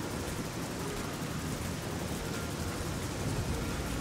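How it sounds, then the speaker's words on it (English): Steady heavy rain pours down in a post-apocalyptic video game, a dense, continuous hiss with no voices, holding an even loudness throughout. "The rain pours down on SkullPunch."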